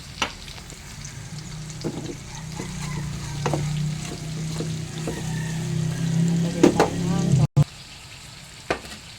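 Pork steak sizzles and fries in a pan while being stirred, a steady crackling hiss with occasional scraping clinks of the utensil, moderately close, with faint talk in the background.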